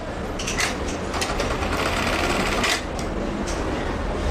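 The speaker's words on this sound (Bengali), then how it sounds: "এবার আমরা বাটন লাগাই দেখি আমাদের বাটন সেলাইটা কী অবস্থা" A Juki LK-1900B button-stitch sewing machine sews on a button, fast steady mechanical whirring and clatter running throughout, close and fairly loud, no speech.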